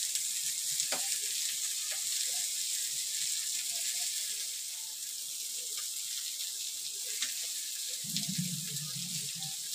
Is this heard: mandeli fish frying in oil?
yes